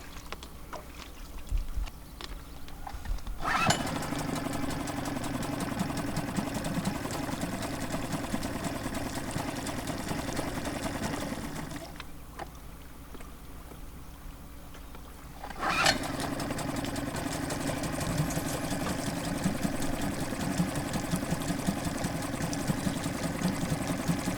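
A brand-new sailboat engine on break-in starts with a sharp burst and settles into a steady idling rumble, cuts out for a few seconds, then restarts and idles on, close and loud, with no voices.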